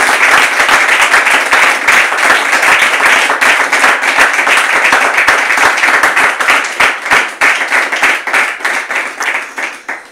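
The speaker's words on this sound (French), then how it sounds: "on peut accueillir son épouse, s'il vous plaît, avec des applaudissements" A crowd applauding, dense and loud at first, then thinning into more distinct individual claps as it gradually fades.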